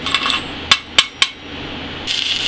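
Three sharp metallic taps from a hammer chipping slag off a 2G stick (SMAW) weld, evenly spaced and close, with faint hiss before and after.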